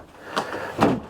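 Bedroom door in a 2020 Grand Design Imagine 2800 BH travel trailer swinging shut, two close thuds about half a second apart, the second heavier, with no talking.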